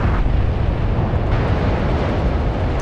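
Loud, continuous rumbling blasts from bombing runs in the naval warfare game World of Warships-style title 海战世界, with torpedo bombers attacking ships; dense low roar throughout with a brief swell near the start.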